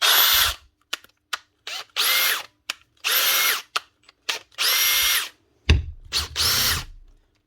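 Makita DHP484 cordless drill running after a full rebuild, whirring in about six separate bursts of a second or so each, with clicks and pauses between them and a low thump near the end.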